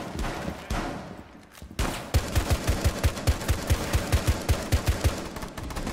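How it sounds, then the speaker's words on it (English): Hip-fire gunfire in Rainbow Six Siege: after a noisy lead-in, a rapid, evenly spaced string of loud, close shots runs for about four seconds. "It's hip fire."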